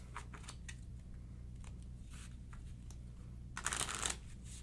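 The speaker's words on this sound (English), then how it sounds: "Shuffle that up, split that deck." A deck of game cards for the One Deck Dungeon board game being shuffled and split, with a run of soft riffling flicks followed by a louder, denser burst of cards rattling together, close up and without talk.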